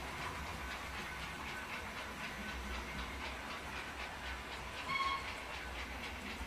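A J15 steam locomotive runs with a steady rumbling chuff and hiss, and a brief whistle sounds near the end over the continuous rolling noise.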